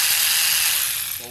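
Ratchet wrench working the camshaft plate bolts off an LS 5.3 engine during teardown, a steady dense clicking that stays loud throughout the short stretch.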